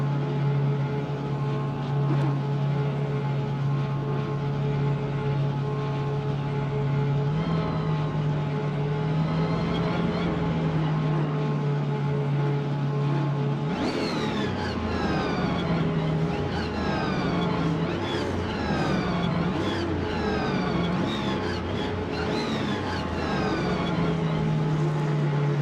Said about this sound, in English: Dude's just letting his engine freaking cook over there, man.